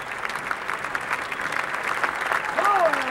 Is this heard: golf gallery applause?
yes